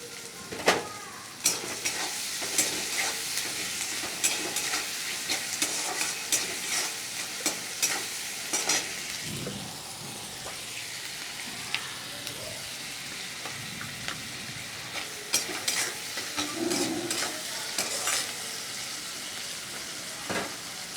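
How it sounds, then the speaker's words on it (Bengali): Chopped onion and diced tomato fry in a pan with salt, sizzling steadily while a spoon scrapes and stirs in irregular clinks and strokes throughout, close and moderately loud with no talking. "আর এই পেঁয়াজ ভাজার মধ্যেই আমি একটা টমেটো কুচি দিয়ে দিলাম।"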